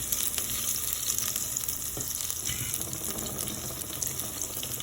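Garlic sautéing in a pan with eggplant and potato already in it gives a steady, close sizzle and frying crackle that runs the whole time, with faint stirring clicks and a light watery hiss underneath.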